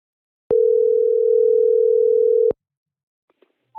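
Telephone tone heard while calling back: a steady, loud single-pitched tone lasting about two seconds that cuts off abruptly, followed by faint clicks and the start of a ring.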